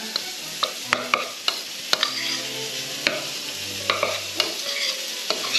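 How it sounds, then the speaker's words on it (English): Taco seasoning stirred in a hot pan, a steady close sizzle punctuated by repeated light spatula clicks and scrapes at an uneven pace, no voices. "Just going to stir that up"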